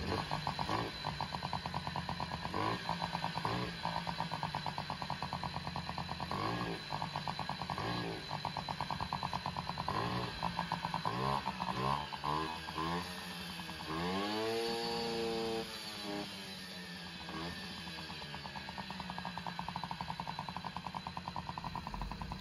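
A junk Honda Motocompo scooter's small two-stroke engine runs after a restart, a loud, buzzy, rattling idle with repeated throttle blips rising and falling in pitch, close to the microphone throughout.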